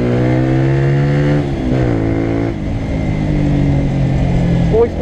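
Honda CBR125R 2016 four-stroke motorcycle engine dropping gears under braking, with rev pitch stepping down and blipping between shifts, loud and close, ending in a brief rise.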